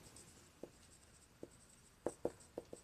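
Pen strokes from someone handwriting differentiation equations during a Class 12 maths lesson on maxima and minima: faint, close scratchy taps in short irregular bursts over a quiet background, with a cluster of sharper strokes near the end.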